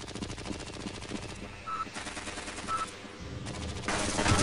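Rapid bursts of automatic turret gunfire rattle in Half-Life: Blue Shift, sustained volleys broken by short pauses and electronic beeps, moderately loud and with no talking.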